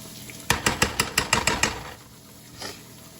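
Potatoes with milk, a seasoning packet and butter cook in a pan on a stove, with about eight quick, rhythmic scraping strokes close by, then a quiet sizzle and one fainter clink.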